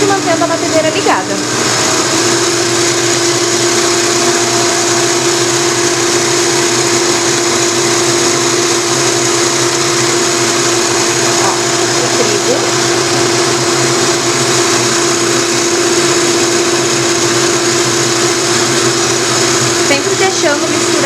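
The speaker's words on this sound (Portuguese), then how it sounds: "colocando aos pouquinhos e mantendo a batedeira ligada" An electric mixer beats cake batter for a filled cake as sugar and wheat flour go in a little at a time, giving a loud, steady whirring hum that runs continuously from start to finish.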